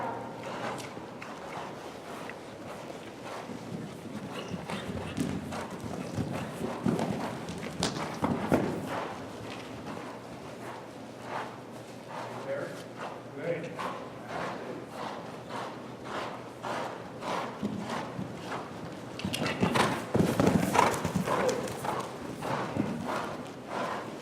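Horse hooves clip-clopping steadily through a riding lesson on a horse, rhythmic thuds at a moderate distance running the whole stretch, with occasional louder strides and no talk over them.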